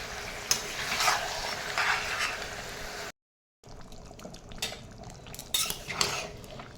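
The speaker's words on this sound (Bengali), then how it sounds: "মাংসটা দিয়ে একটু ভাজা করব, হালকা হালকা।" Chicken meat frying with onions in a pan as a metal utensil scrapes and clatters through it, under a steady sizzle, with a brief silent gap midway before the stirring resumes.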